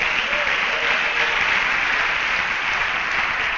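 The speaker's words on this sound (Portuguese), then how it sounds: "Dá um aplauso bem forte a ele aí, ó." Church congregation applauding loudly during a sermon, a steady dense wash of clapping that holds at full strength throughout, with no speech over it.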